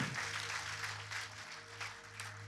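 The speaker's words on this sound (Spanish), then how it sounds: "Dele un aplauso al Señor." Applause for the Lord fills a church, a steady dense patter of many hands lasting throughout, with a low sustained organ or keyboard tone underneath and no voices.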